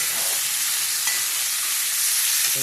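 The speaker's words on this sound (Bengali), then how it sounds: "যে পনির ভেজে রাখছি, হালকা ভাজছি" Steady, dense sizzling of paneer lightly frying in hot oil, a continuous hiss with faint crackles, close and fairly loud, no voices.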